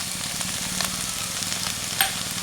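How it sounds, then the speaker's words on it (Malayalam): Onions and green chillies sauté in a pan for masala dosa, giving a steady close sizzle with light scraping taps as a spoon stirs them. "നന്നായിട്ട് തന്നെ നമുക്ക് ഇളക്കാം നന്നായിട്ടൊന്ന് വഴന്ന് വരണം നമ്മുടെ ഉള്ളിയും പച്ചമുളകും വഴന്നു വന്ന്"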